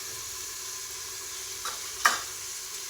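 Pav and ground spices such as bedgi powder, chilli powder, biryani masala and chaat masala stir-fried in a pan give a steady close sizzle, broken by two brief spatula scrapes near the end, with no voices.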